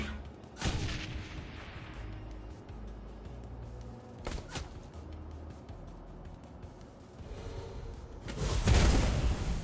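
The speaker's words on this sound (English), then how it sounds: "I need you to start shooting grenades like right now" Grenades fired and exploding in Shadowrun Hong Kong, a few spaced booming blasts, the last one loud and rumbling, over low background combat noise.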